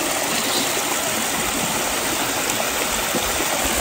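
A natural village stream of clear water flows in a constant, loud rushing wash up close. The sound is steady and broadband, with no voices.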